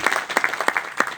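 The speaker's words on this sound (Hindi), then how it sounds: "एक बार अभिलाष जी के लिए बजाओ ताली" A live audience bursts into applause for Abhilash, a short, dense round of clapping with several sharp peaks, close and loud.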